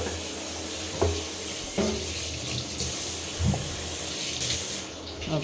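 Running tap water splashing steadily into a sink while a rolling board and pin are rinsed, a close, continuous gush with a few soft knocks and shifts as the items are moved under the stream.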